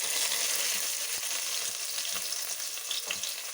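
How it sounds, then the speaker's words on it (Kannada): Onions and curry leaves frying in hot oil with fennel, cinnamon, cloves and cardamom for Chettinad chicken gravy: a steady, bright sizzle with faint stirring scrapes throughout, no voices. "ಈಗ ಈರುಳ್ಳಿ ಮತ್ತು ಕರಿ ಲೀಫ್ ಕೂಡ ಹಾಕ್ಕೊಳ್ತಾ ಇದ್ದೀನಿ."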